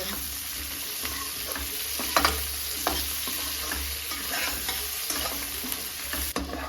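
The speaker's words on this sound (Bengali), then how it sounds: "আলুগুলো দিয়ে দেবো পেঁয়াজ আর আলুটা কিছুক্ষণ ভেজে নেব" Potatoes and onions frying in a pan make a steady, dense sizzle with occasional scraping stir sounds and light clinks, close and continuous, no voices.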